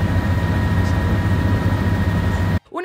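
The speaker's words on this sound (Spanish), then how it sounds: "Hacía mucho, mucho, mucho ruido esa mierda de hélice." Steady, loud helicopter rotor and engine roar during a sightseeing flight over New York, a dense continuous drone with strong low rumble that cuts off abruptly near the end.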